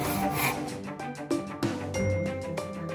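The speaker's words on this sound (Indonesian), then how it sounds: "Perhatikan tata letak tangan dan cara berdiri PLP saat menggunakan hand tool gergaji." A hand saw cuts through wood in a workshop lab, giving a steady scraping rasp with irregular stroke bursts, close and moderately loud, with no talking.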